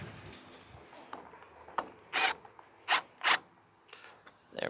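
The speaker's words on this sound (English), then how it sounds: "Tighten the other side up a little bit more on its own first." Roof rack clamps on a Ford Festiva being tightened, heard as a few short, bright mechanical ratcheting or rubbing bursts, close by and evenly spaced, over a quiet background.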